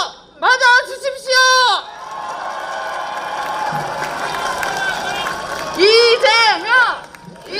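Crowd at a presidential campaign rally in Busan for a candidate, a broad sustained wash of applause and cheering, with a loud amplified voice shouting over it at the start and end.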